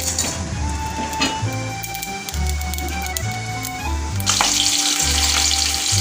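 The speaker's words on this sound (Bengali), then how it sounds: "এখানে মাছ ভাজা হচ্ছে। মাছ ভাজার জন্য আমি সর্ষের তেল নিয়েছি।" Fish frying in hot mustard oil in a pan, a continuous crackling sizzle with low bubbling pulses and light clinks of a utensil, growing brighter and more intense near the end.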